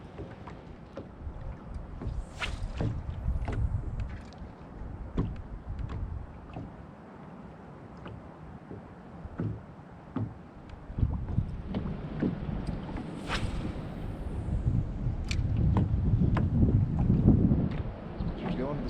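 Small fishing boat moving along a lake shoreline, with steady low rumble and water wash, gusting wind on the microphone, and occasional knocks and splashes building louder toward the end.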